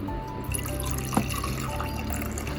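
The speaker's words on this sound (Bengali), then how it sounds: "এগুলো ঢেলে রেখে দিচ্ছি শরবতটা গুড়ের" Jaggery sherbet is poured out into containers, a close, continuous liquid stream with gurgling and a brief splash partway through.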